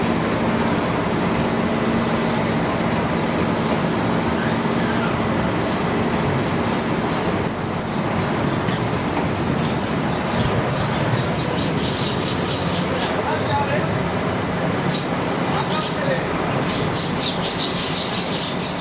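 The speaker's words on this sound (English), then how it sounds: "the train of Australian coal moves smoothly on its way back in the direction of Delhi" A long, steady rumble of a passing freight train carrying Australian coal in India, with occasional metallic squeals and faint bird chirps above it.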